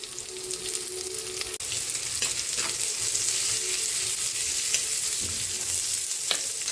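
Ginger, garlic and onion frying in hot oil for a pork dish, a loud steady crackling sizzle close by with occasional stirring clicks and no talk.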